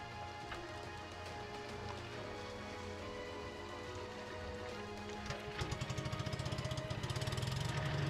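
A small lawnmower engine drones steadily at a distance, then near the end a fast rhythmic putter rises and grows louder as it picks up.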